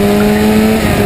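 Historic Formula Ford race cars at Brands Hatch scream past near the mic, a loud steady high-revving engine drone lasting about a second with no talk.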